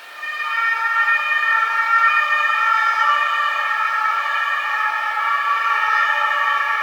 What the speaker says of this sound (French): On va laisser passer les sirènes là.